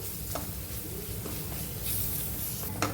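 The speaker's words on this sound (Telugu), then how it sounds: "ఈ మసాలాలు మొత్తం బాగా పచ్చివాసన పోయేంత వరకు ఫ్రై చేసుకోవాలి." Spices with salt and roasted cumin powder frying in a pan for a Telugu dhaba-style bhindi masala, a steady soft sizzle with faint stirring scrapes, close and continuous with no voices.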